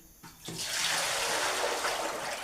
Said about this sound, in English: And then I empty this bucket of water on the outside.